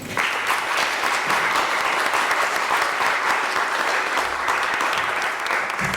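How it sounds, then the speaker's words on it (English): Veterans receive a warm round of applause from an audience, a steady, dense clapping that holds evenly at close range throughout. "a warm round of applause for our veterans"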